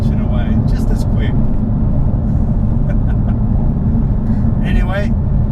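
A Jaguar F-Type R V8 engine rumbles in a deep, steady drone from inside the car while a person talks over it.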